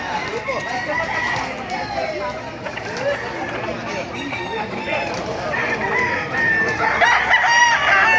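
Roosters crow repeatedly, some near and some farther off, amid the bustle of the Baliuag poultry market, with people talking throughout.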